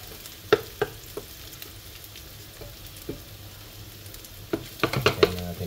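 Garlic browning in a pan, cooked after onions, gives a low steady sizzle broken by a few sharp utensil scrapes and clinks, busier near the end.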